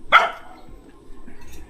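A dog gives one sharp, close bark, followed by quieter, fainter yips and rustling at a home where a new gate is being fitted.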